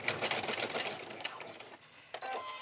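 A sewing machine backstitches a patchwork dog leash in a quick, close, rattling stitching burst that slows and pauses briefly before a short final run of stitches.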